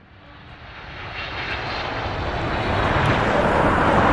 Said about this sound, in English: Just sitting here in Dublin Airport.